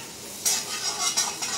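Chopped garlic, ginger, a clove and ajwain sautéing in a pan: a steady sizzle with several quick stirring scrapes close by.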